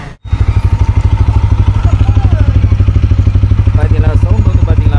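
A TVS Apache RTR 160 4V motorcycle idles in first gear on its stand, a close, steady engine thrum with regular firing pulses, a brief dropout at the start, and a voice talking over it.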